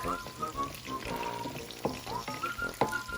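Onions frying in a hot pan for a chicken luncheon meat potato fried rice, a close, soft, continuous sizzle and crackle with occasional stirring clinks, faint and steady throughout.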